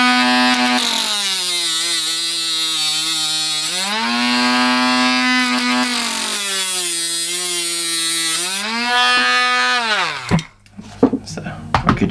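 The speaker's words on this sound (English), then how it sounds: "I'm going to snip it off or slice it off with the Dremel" A Dremel rotary tool cuts off the end of a piece of OO narrow gauge model railway track, giving a loud, high whine that dips in pitch as it bites, runs in two long passes, then stops abruptly.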